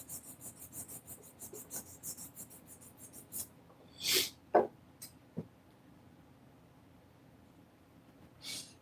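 Body filler on a Kyosho RC motorcycle body being scraped with a plastic screen protector scraper: a run of light, quick rasping strokes, then a few louder, sharper scrapes with pauses between them, close by in a quiet room.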